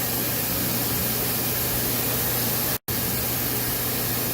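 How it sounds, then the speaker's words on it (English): Coarse 60 grit sandpaper rubbing across a wooden yarn bowl to smooth out a check, a steady broadband hiss that runs nearly unbroken with one brief gap. "sand that down and get it out of there"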